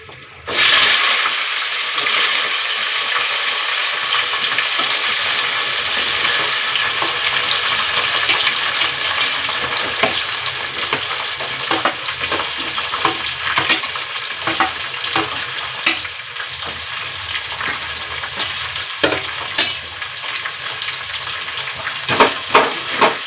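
Curry leaves, onion, tomato, green chilli and carrot frying in a pan for vegetable pulao, a loud continuous sizzle with irregular stirring clatters and taps, and a faint run of water in the background.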